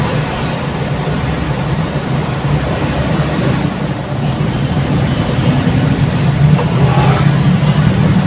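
Dense road traffic on a service road in Muntinlupa, heard from a truck, makes a loud, continuous low rumble of engines and tyres with no pauses.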